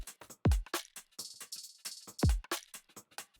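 Electronic trap drum loop with effects off: two heavy descending kicks, sharp snares and fast rolling hi-hats in a tight pattern, loud and dry, alone.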